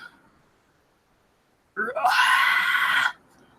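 A slimy creature with a mane and horns on its head lets out one loud, harsh scream of about a second, rising at the start, close and alone after quiet.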